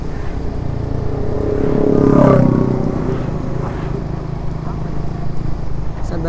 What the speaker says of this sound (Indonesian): CBR yang baru kayaknya yang 150, bukan yang 250 kayaknya ya suaranya